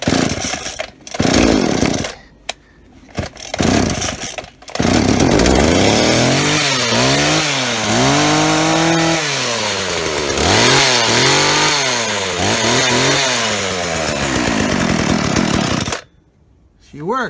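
Chainsaw model 010 after a repair: a few sharp pull-start tugs, then the engine catches and runs loud and close, revving up and down with an uneven idle, then it cuts off suddenly near the end.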